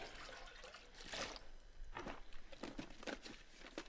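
Water being scooped up from a toilet in the survival game The Long Dark, heard as several soft splashing, trickling bursts with brief crinkling in between, fairly close and with no voices.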